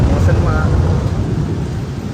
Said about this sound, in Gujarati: વીજળી એટલી પડે છે